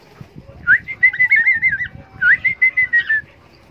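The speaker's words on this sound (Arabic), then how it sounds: "حمدي ده دمه خفيف وما شاء الله صوته ونغماته جميله" A cockatiel sings a warbling whistled phrase of rapid rising notes, pauses, then repeats it, loud and close with no voices over it.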